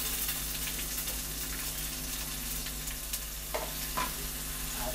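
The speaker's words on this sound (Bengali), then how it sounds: "এবার আমার ঝিঙার খোসাগুলো এবার ফ্রাই করে নেওয়ার পালা।" Ridge gourd peels with chopped onion and green chili sizzle steadily in hot oil, a dense, even frying hiss with a couple of brief scraping stirs near the end.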